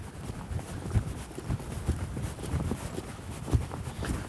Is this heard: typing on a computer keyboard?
no